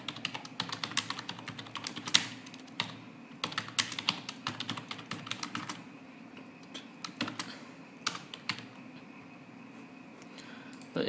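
Quiet, close typing on a computer keyboard, with irregular bursts of light key clicks and short pauses between them as Bengali text is entered.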